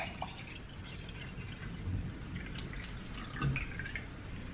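A watermelon-flavoured drink is poured into a cup at a brunch table, with light, close dripping and liquid trickling, quiet and alone with no talk.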